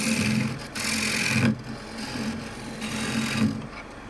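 Wood-turning gouge on a lathe facing a large area of end grain, a steady rasping scrape with a low whirring hum running throughout, swelling and easing in a few passes.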